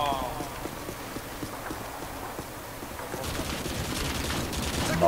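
Gunfire in Modern Warfare 2 played as an online multiplayer game: rapid, clustered shots that crackle under low background noise and build louder toward the end, with a voice speaking faintly in the mix.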